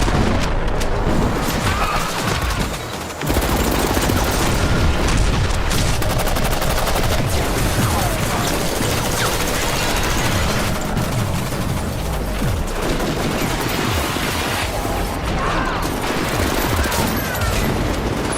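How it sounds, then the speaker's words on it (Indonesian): A brutal film gunfight with dense, continuous gunfire, rapid bursts and booming shots layered loudly and without pause for the whole stretch. "menangkap Dave dan Max, hingga akhirnya baku tembak pun berlangsung dengan sangat brutal"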